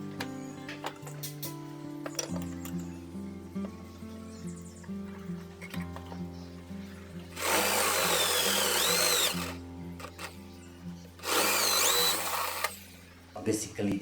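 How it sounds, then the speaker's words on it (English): A hand-held power drill with a Forstner bit boring into wood whines in two loud bursts, steady and close, with a lower motor hum running underneath throughout. "So another option is that we must drill it from both the sides."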